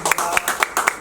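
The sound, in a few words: applause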